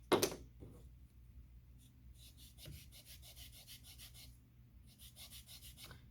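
Rhythmic rasping strokes of a sandpaper paddle rubbing back and forth on piano wood, close and fairly quiet, in two bursts separated by a short pause.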